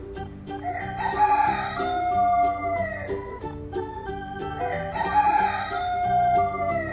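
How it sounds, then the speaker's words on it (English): Toy farm roosters give electronic crowing calls, two repeated crows over a busy looping music-box style tune, close and loud. "We have some roosters."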